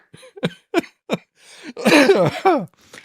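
A person coughs several times in short bursts, then lets out a longer, raspy throat-clearing fit, close and fairly loud.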